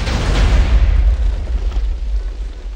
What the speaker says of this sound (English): A holy hand grenade.